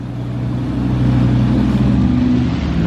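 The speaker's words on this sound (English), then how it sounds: "Oh, this bus is leaving." A bus at Gobbler's Knob in Punxsutawney, Pennsylvania pulls away, its engine droning with a steady low hum that builds slightly and holds, fairly close and loud with no voices.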